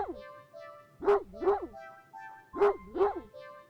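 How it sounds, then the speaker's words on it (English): A large dog barks excitedly and loudly at close range, in two quick bursts of paired barks separated by a short pause. "A series of excited barks just jerks your gaze forward, and you see a large dog sprinting towards you."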